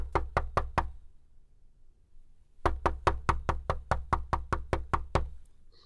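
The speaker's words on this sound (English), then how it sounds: "Then there was a knock on the door." Knocking on a door in a stage play: a quick burst of four sharp raps, a pause, then a longer run of about a dozen insistent knocks, close and clear with nothing else over them.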